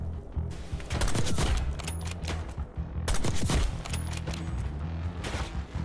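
Machine gun fire in the Call of Duty: Black Ops 6 mission Ground Control, two loud bursts of rapid automatic shots with heavy booms and echoing crackle, mixed with other battle noise.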